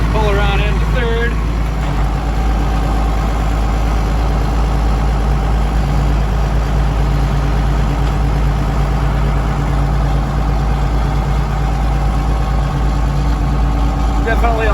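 A Case 1070 tractor engine runs steadily while the tractor is driven, a constant loud low drone throughout with little change in pitch.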